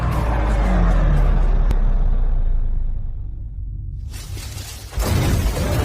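A truck roars off at speed in a film scene: a loud whooshing rumble with a sharp crack, fading into lower rumble, then a sudden burst of noisy engine and debris near the end.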